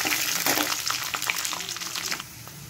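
Cashews, black pepper and cumin fry in a hot pan for little millet ven pongal, giving a steady close sizzle with scattered crackles and pops, and no talking.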